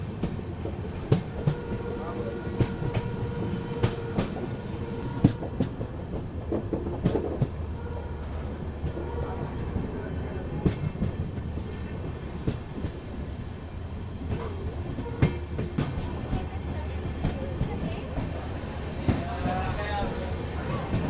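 Indian passenger train running on the Nanded to Delhi route, a continuous rumble with rhythmic wheel clatter and occasional squeal, heard from inside a carriage with people talking throughout.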